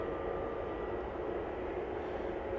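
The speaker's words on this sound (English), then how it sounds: "Another Jet2 A321 Neo in the .com livery." A Jet2 Airbus A321neo in the .com livery at Manchester Airport gives a steady, sustained engine roar at moderate distance, with no talk.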